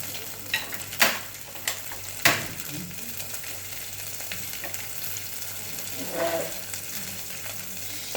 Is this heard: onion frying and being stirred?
yes